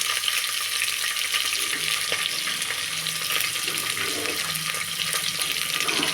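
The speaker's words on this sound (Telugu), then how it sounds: "పచ్చి ఉల్లిపాయ ముక్కలు వేస్తున్నానండి అలాగే రెండు పచ్చిమిర్చి వేస్తున్నాను" Raw onion pieces and two green chillies sizzle steadily in a hot pan, a loud, continuous crackling fry with faint stirring scrapes, for khichdi prasadam.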